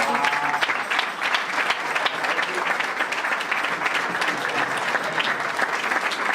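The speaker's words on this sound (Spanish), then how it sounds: "Acá está el papá, un aplauso." Applause from a church congregation during a Sunday sermon, steady dense clapping filling the room for several seconds without pause, loud and close.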